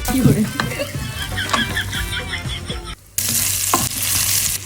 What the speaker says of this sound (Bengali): রান্নার একটা ইম্পর্টেন্ট পার্ট হচ্ছে পেঁয়াজ বাদামি হতে হবে, ভালো করে ভাজতে হবে